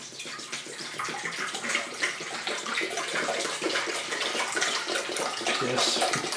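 Pickling vinegar pours steadily into a container for pickling walnuts, a continuous close splashing rush of liquid that holds at an even level throughout with no talk.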